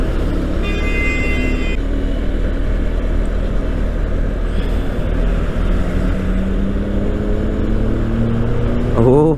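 KTM Duke 390 BS6 motorcycle riding along with a steady, smooth exhaust drone and wind rush that stays loud and continuous throughout, with a brief tonal beep near the start and rising engine revs at the end.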